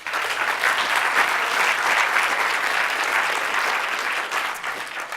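Steady, full audience applause welcoming a speaker named Harriet at a Walk21 walking and liveability conference, sustained for about five seconds and tapering slightly near the end.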